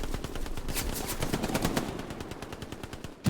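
Rapid machine gun bursts fired from the hip in the Hell Let Loose shooter game, a dense continuous rattle of close, loud shots running throughout with no break.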